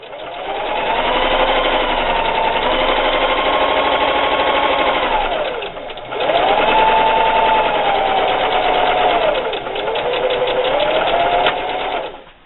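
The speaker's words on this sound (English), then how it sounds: "so now I'm going to start sewing, backstitch, and then continue my seam all the way down" A sewing machine stitches a seam on a holiday gift bag, whirring steadily at a loud, close level in two long runs, with a short pause and slowdown for a backstitch midway.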